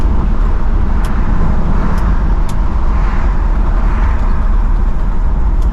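A 1968 Pontiac LeMans driving on a road, with a steady loud rumble of engine and road noise throughout and no talking.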